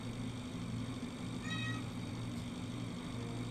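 A cat meows once, a short faint cry rising over a constant low mechanical hum of a space station interior in the video game Breathedge.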